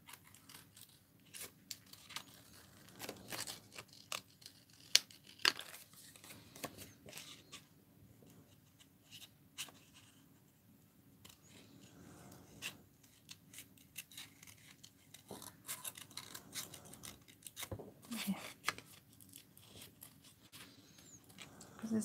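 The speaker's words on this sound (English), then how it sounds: "there's no point me cutting the dress out if it doesn't look right" Scissors snip through paper while a dress shape is cut out, with a steady patter of short crisp cuts and rustling sheets, close and fairly quiet, with pauses between runs.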